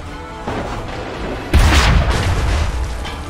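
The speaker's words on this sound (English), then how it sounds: "They're shooting anybody." Gunfire and cannon blasts from Assassin's Creed 3 roll through a battle din, with a heavy booming burst about halfway in that lingers over continuous rumble and crackle.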